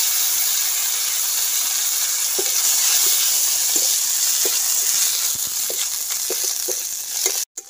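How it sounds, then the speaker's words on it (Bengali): Raisins fry in hot oil with a steady, loud sizzling hiss, a few soft stirring knocks on top, in the pan just after cauliflower was fried. "কিশমিশটাকে তেলের মধ্যে ভেজে নেব।"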